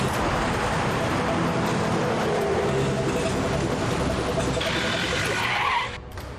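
Car chase with tires skidding and screeching over a loud, continuous engine and road roar, with a higher squeal rising near the end before the sound drops off.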